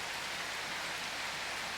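Steady rain falling in the survival video game Prologue, a dense even hiss filling the scene with no other sounds or voices.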